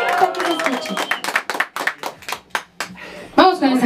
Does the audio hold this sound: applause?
yes